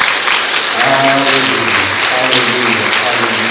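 Loud, dense congregational clapping fills a church during a sermon while a preacher's voice calls out repeatedly over it.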